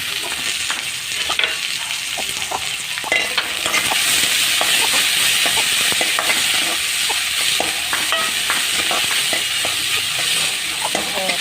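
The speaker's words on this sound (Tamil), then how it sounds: "வெங்காயம் நல்லா வதங்கிட்டுருக்கு." Onions sauté in a pan with steady, loud sizzling and frying hiss, broken by frequent scraping and tapping as they are stirred, running continuously without speech while cooking a Tamil okra tamarind curry.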